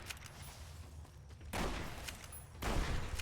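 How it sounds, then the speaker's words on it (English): Brush gun shots in Fallout New Vegas, a lever-action rifle firing in the game: two heavy, booming reports about a second apart, the second followed by a long rumbling tail, over a low background hum. "3 shots of the brush gun to kill there is a bit weak."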